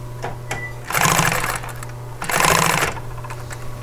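A sewing machine stitches upholstery fabric in two loud, steady runs of about a second each. A low constant motor hum sits underneath, with a few soft clicks between the runs.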